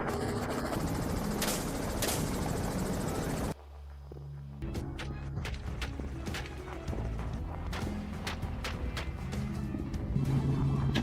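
An aircraft flies over fields during a feral hog hunt, giving a steady, loud broadband drone that dips briefly before resuming, with scattered sharp transients.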